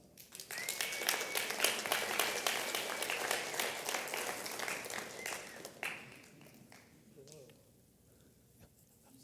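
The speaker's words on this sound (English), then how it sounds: "Your applause." Audience applause at a talk as a guest comes on stage, a dense wash of clapping with sharp individual claps, swelling then thinning out after about six seconds, with voices and cheers mixed in.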